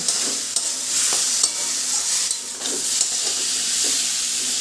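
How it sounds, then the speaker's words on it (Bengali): Spice paste (masala) sautéing in a pan for a vegetarian elephant foot yam curry, a steady sizzle with repeated scraping stir strokes, close and fairly loud with no voices. "এবার মশলাটা ভালো করে কষিয়ে নেব"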